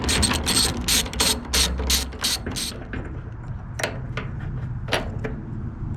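A ratchet wrench removing the nut from a wheelbarrow carriage bolt, with a fast run of loud close clicks followed by a few slower, sparser ratchet turns.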